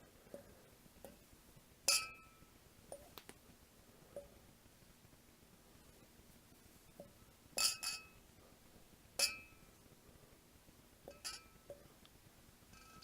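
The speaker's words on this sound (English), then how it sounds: "in each glass I'm going to put 2 grapes" Grapes dropped two at a time into glasses give sharp, bright clinks at irregular intervals, some doubled, over a faint room hiss with no talk.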